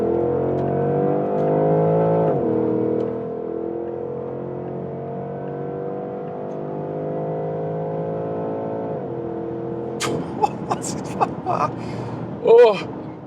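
A Porsche Panamera GTS hums steadily from inside the cabin, its engine tone rising and dropping as it drives, with a few sharp clicks and knocks near the end.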